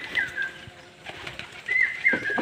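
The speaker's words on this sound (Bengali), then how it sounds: "দেখুন পায়রাগুলো লাভছে" Pigeons come in to land, their wings flapping in short fluttering bursts near the loft, with a few chirpy calls mixed in and the flapping swelling louder toward the end.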